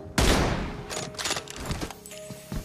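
PUBG Mobile gunfire: a loud burst of shots opens the moment, followed by a cluster of quicker, sharper shots and a few thuds, with no talking over it.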